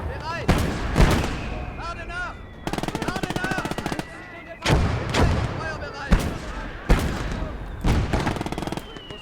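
Mortar and gunfire from the video game Legion of the Damned: loud, sharp blasts with a burst of rapid automatic fire, repeating at irregular intervals through the scene.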